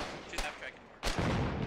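Artillery firing in the Foxhole war game, two sharp close blasts about half a second apart with rumbling tails, loud and punchy against low background noise.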